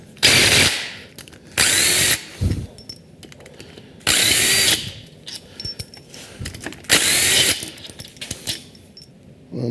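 Power tool spinning out bolts on a 2005 Subaru Legacy GT engine during teardown, close and loud, in four short whirring bursts separated by quieter clinks and ratchet clicks.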